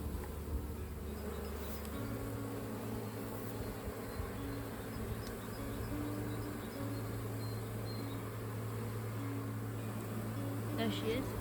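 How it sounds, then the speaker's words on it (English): Honeybees hum steadily from an opened hive box in a garden, a loud, continuous buzzing drone that runs through the whole stretch, close and full. "There's plenty of bees in this box as well."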